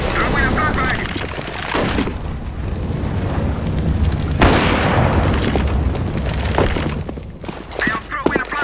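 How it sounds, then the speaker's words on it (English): A flashbang grenade goes off in Counter-Strike: Global Offensive with a loud, sustained booming burst and crackling rush, layered over dense continuous game noise with a voice speaking. "I am throwing a flashbang."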